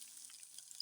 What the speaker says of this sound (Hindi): प्याज ऐड कर देंगे